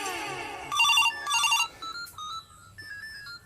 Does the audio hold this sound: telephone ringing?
yes